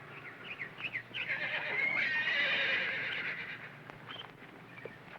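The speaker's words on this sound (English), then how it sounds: "Good-looking horse you have there." A horse at a stable neighs once in a long, clear whinny, moderately near, with a soft clip-clop of hooves around it and no talk.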